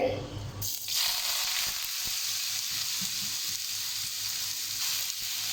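Grated bottle gourd hits hot cooking oil in a kadai and bursts into a loud, steady sizzle that starts abruptly and holds close up, with faint stirring scrapes beneath.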